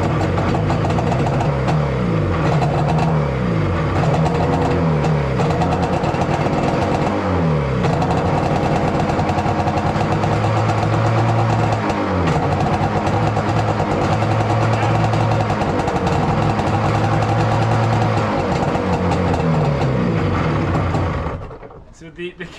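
The small, loud engine of a 1970s UltraNautics Wetbike, left sitting for 25 years, runs roughly and continuously, revving up and down repeatedly before cutting out near the end.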